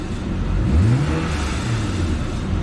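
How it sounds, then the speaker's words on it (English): A car engine revs up once and settles back toward idle during a charging system test with lights and other loads switched on, a loud close hum and rise with no talk. "Again, rev the engine"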